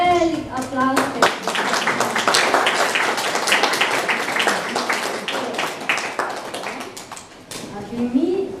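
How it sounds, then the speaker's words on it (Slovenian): Children and adults clap enthusiastically for Slovenian author Breda Marija Kovše at an indoor storytime reading, a dense burst of applause lasting several seconds before fading, with a few children's voices mixed in. "pa ji bomo dali en velik aplavz"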